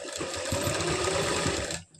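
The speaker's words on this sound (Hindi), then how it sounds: "यहाँ से हमें फिर से ऐसे सिलाई लगानी है" A sewing machine runs a short, steady stitching burst on a palazzo pant pocket, close and fairly loud with a rapid needle rhythm, stopping abruptly near the end.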